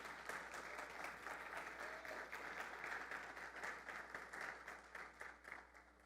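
A church congregation applauds, steady and dense clapping from many hands that fills the hall, fairly even throughout with no pauses.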